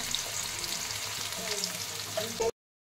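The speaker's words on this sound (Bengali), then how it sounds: "এগুলো আমার এখানে ফ্রাই হচ্ছে।" Potatoes fry in hot oil with a dense, steady crackling sizzle heard up close for about two and a half seconds, then silence.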